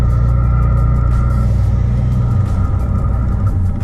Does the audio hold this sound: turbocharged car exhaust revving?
yes